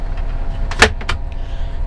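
A bus smoking room's sliding door opens in a couple of quick clunks and a short rolling slide, close and fairly loud over a low vehicle hum.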